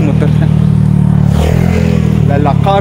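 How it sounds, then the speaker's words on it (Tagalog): Motorcycles and cars run along a road near Mount Arayat in Pampanga, a steady close engine drone with one rising rev as a vehicle passes, under continuous talk. "Daming motor na."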